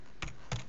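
Three quick bursts of computer keyboard keystrokes as a short terminal command is typed to launch IPython, close and clear with no talking.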